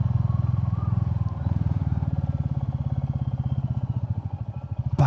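A Royal Enfield Classic 350 motorcycle rides a bumpy gravel road, its single-cylinder engine thumping in a steady, rapid pulse up close with faint rattles, ending in a short burst of noise.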